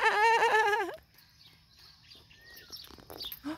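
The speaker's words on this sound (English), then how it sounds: "Oh, there's a peacock." A single loud, nasal wailing peacock call opens at Panaewa Zoo in Hilo, then fades into faint chirps and small background noises.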